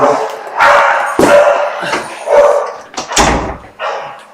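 Several household dogs bark loudly and repeatedly at close range, with overlapping yips and sharp woofs in irregular bursts, along with a whimpering note and a thud like a door.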